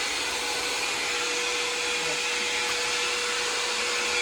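A vacuum cleaner roars steadily while sucking up dust as a hole is cut for a recessed light can, a constant loud whooshing hum with a faint whine throughout.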